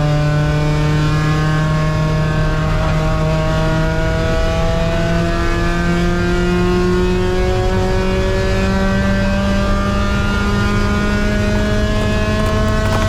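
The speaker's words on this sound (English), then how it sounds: "Civic is going by." A Honda Civic race car on a circuit howls past with a loud, sustained engine note that climbs and shifts in pitch as it goes by, close and dominant with no talk.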